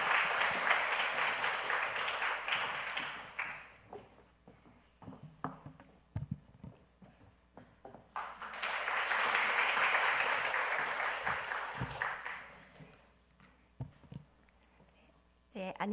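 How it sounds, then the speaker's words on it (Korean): A church congregation applauds to welcome a speaker to the front, with one burst of clapping at the start and a second swell midway, separated and followed by quieter stretches with talk. "나오실 때 박수로 한번 모시겠습니다."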